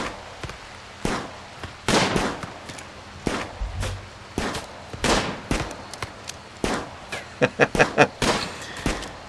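Colonist gunfire in the video game RimWorld: a series of sharp, loud shots in irregular bursts, with a quick rapid volley near the end and no talk over it.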